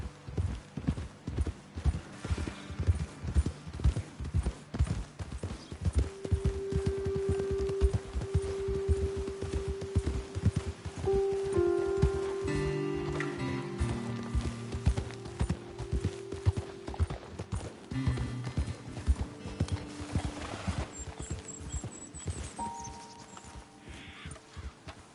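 Horses walking in Red Dead Redemption 2, with steady clip-clopping hooves throughout, some louder nearby steps, a brief whinny and ambient game sounds, with no talking.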